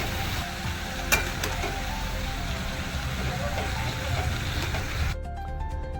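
Cabbage bhaji is stirred in a hot pan, giving soft scraping and sizzling with a sharp clink near the start. Someone speaks over it, and the sound cuts off abruptly just before the end.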